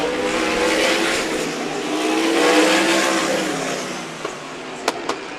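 Sprint cars race a heat on the dirt oval at Meridian Speedway. A loud, steady roar of engines holds throughout as the pack runs single file, with a few sharp snaps near the end.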